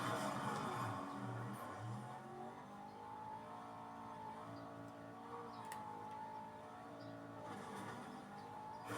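A car in a video game drives with a steady engine drone and brief tire squeals. The sound is fairly quiet, with a few sharp ticks near the start and end.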